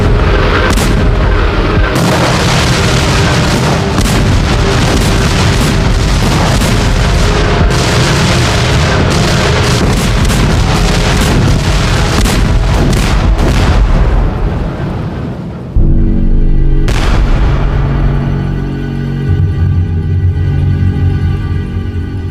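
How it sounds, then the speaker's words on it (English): Artillery bombardment of a city under siege: continuous heavy rumbling booms and blasts overlapping into a dense, loud roar, then a sharp loud burst near the end followed by fading rumble. "Over 4 months, Prussian artillery bombarded Paris."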